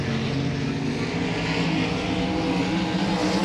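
Sprint cars lapping Volusia Speedway Park during USAC National Sprints time trials, a steady loud engine drone with dense harmonic whine, continuous across the whole stretch without talk.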